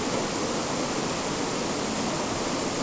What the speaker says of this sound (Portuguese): o barulho da água é muito forte